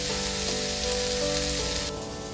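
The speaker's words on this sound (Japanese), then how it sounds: "手羽元のね、皮目から焼いていきます。" Chicken drumettes frying skin-side down in an unoiled pan over low heat, a steady, close, dense sizzle with no pauses and no voices.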